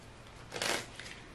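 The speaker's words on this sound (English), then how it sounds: "Shuffle again." A short, quick riffle of playing cards being shuffled, a single soft burst in an otherwise quiet room.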